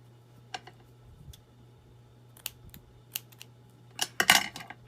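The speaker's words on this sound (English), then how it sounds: "I'm totally using the wrong scissors." Dull scissors snip through fabric for a pumpkin craft in a quiet room, a few isolated crisp cuts followed by a quick cluster of snips near the end, over a low steady hum.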